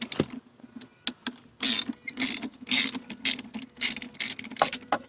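Ratchet with a 3/8 or 10 mm socket loosening the negative battery terminal on a Mercedes-Benz GL450, giving close, loud bursts of quick clicking in an uneven rhythm against a faint low hum.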